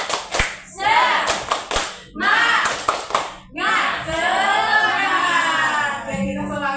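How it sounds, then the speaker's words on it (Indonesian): A group of teachers and parents at an elementary school workshop in Jakarta does a rhythmic 'tepuk semangat' chant-clap, sharp clustered claps in patterned bursts alternating with a leader's voice and group chanting. "Kita tepuk semangat dulu."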